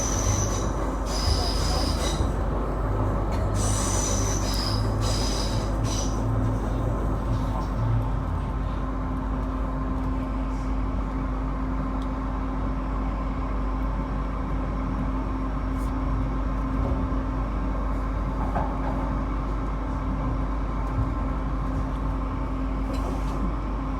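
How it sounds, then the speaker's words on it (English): Onboard an IMU 100 electric train riding toward Park Road station in Brisbane, with steady rolling rumble and wheel squeal throughout, a sustained hum and brief higher squeals early on, heard close from inside the carriage. "This is a Gold Coast train."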